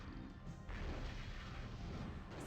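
Weapons fire in the MechCommander strategy game produces a continuous, loud, crashing roar of blasts and impacts that swells after the first half-second and keeps going without pause.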